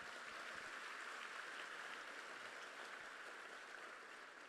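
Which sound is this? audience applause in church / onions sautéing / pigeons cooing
audience applause in church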